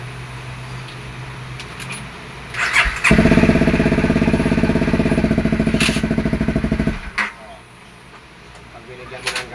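A Honda CRF250L engine that misfires, heard close and loud: after a few knocks and squeals it settles into a rough, uneven running note for about four seconds, then cuts back to quieter clatter. Someone talks lightly over it.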